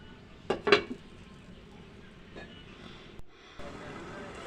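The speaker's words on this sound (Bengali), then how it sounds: "কিছু সময়ের জন্য একটু ঢেকে রাখবো" A cooking pot of tilapia head with Malabar spinach and a little added water is covered with its lid, giving a couple of close metallic clinks near the start, then a faint clatter and quiet kitchen background.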